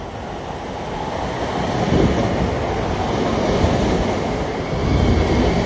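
A passenger train bound for Forest Hills, Long Island, during a severe thunderstorm warning rumbles steadily with a continuous low roar of wheels on rails, loud and close, the noise swelling slightly at moments.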